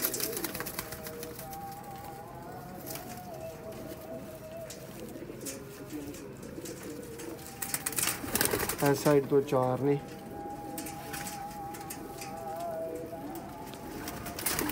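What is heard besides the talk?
Sialkoti pigeons cooing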